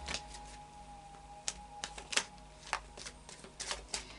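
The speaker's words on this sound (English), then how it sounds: "Another couple of shuffles." Tarot cards are shuffled in short riffling bursts, soft papery flutters repeating at close range in an otherwise quiet room.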